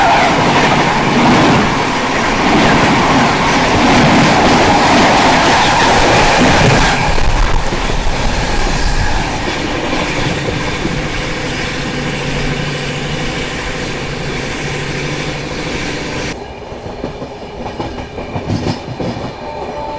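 Mansi–New Delhi summer special train passing at Tundla Junction: a loud, continuous rumble and clatter of rail cars going by up close, with rhythmic clickety-clack that eases off toward the end.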